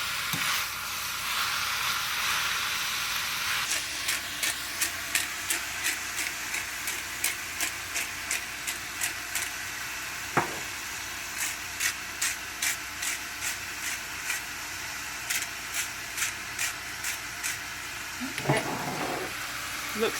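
Beef for stroganoff searing in a hot pan, seasoned with salt and pepper, giving a steady close sizzle with a string of regular clicking ticks running through it and a brief clatter near the end.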